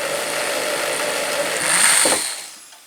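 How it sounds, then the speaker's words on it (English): A drill bores a small pilot hole in wood while building a child's art easel, a steady whirring motor with a brief louder burst near the end before it winds down to quiet. "I'm just going to drill a little pilot hole again"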